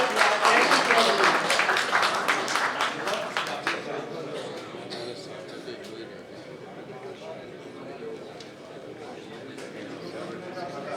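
Applause from the audience at a mushaira poetry gathering. It is loudest at the start, then fades into steady crowd murmur and scattered claps, with a voice speaking over it.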